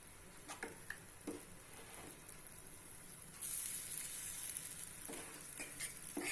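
Sweet corn appam batter sizzles in a paniyaram pan, a steady close crackle that grows louder and denser partway through as more batter is poured in, with a few light clinks along the way.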